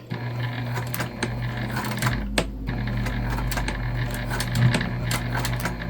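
A sewing machine runs close up, re-stitching over a long, loose stitch on a key fob wallet. It gives a steady mechanical whir with rapid ticking, stops briefly midway, then resumes.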